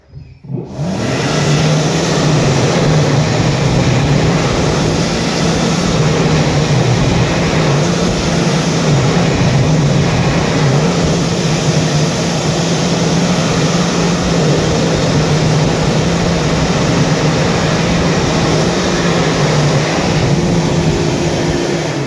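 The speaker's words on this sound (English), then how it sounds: "This was replaced a few years ago now with a Canon Hygiene branded Mitsubishi Jet Towel Slim." A Mitsubishi Jet Towel Slim hand dryer, Canon Hygiene branded, starts abruptly and runs with a loud, steady, close-up jet of air and a constant motor whine for about twenty seconds.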